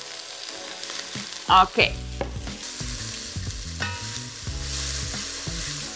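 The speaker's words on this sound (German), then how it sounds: "jetzt zuerst Lauch und Zwiebel 5 Minuten andünsten" Leek and onion sizzle gently as they sauté in a pot, with a spoon scraping and stirring through them and two sharp clanks early on; someone briefly speaks.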